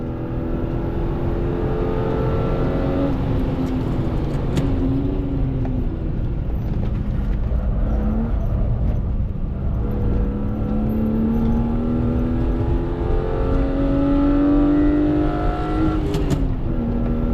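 A BMW E36 M3's engine revs hard on a race track, a loud, continuous howl that rises and falls with the shifts and stays up close for the whole run, with no talk over it.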